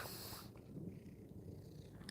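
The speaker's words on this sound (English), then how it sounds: "Are you purring?" A cat purrs close by in a low, continuous rumble, quiet and steady after a brief burst of hiss-like noise at the start, with no one speaking.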